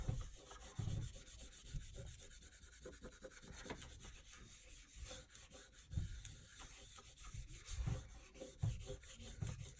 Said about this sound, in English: you can go ahead and you can buff more